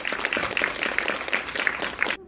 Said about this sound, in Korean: 자, 큰 박수 부탁드릴게요.